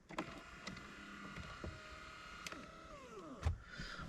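An Audi A4 B8 climate recirculation flap actuator runs with its blower motor removed, giving a faint electric whir with descending tones and a few soft clicks and clunks, heard close and alone.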